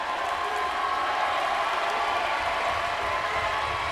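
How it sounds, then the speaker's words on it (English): A Fishers home crowd at a high school basketball game against Carmel applauds and cheers a defensive stand, a dense, steady wash of clapping and crowd noise with no break. "The Fishers crowd appreciating the defensive effort."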